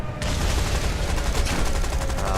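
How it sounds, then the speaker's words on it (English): Aircraft gunners in War Thunder blaze away with machine guns during strafing runs, a loud, unbroken roar of rapid fire that fills the whole stretch with no pause. "My gunners are just opening up all the sides, shooting targets"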